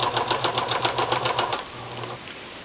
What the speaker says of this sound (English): Then I'm going to continue stitching right around.